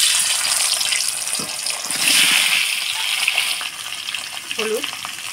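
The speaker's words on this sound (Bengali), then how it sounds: "এবার অল্প হলুদ লবণ দিয়ে আলুগুলো ভেজে নেব।" Peeled potatoes sizzle steadily in hot oil with turmeric and salt, a loud continuous crackle with occasional stirring scrapes and a short voice near the end.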